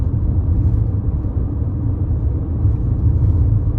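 Road noise from inside a 2023 Toyota Highlander L with a 2.4 turbo four, riding on 18-inch wheels: a steady low tire rumble and hum fills the cabin at a constant level, with no voices.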